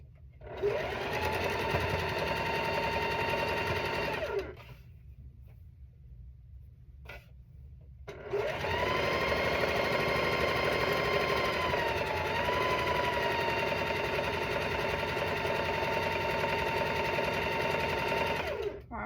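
A sewing machine stitches quilt blocks together for a cat quilt, a loud, steady, rapid mechanical whir in two long runs separated by a short pause of near quiet.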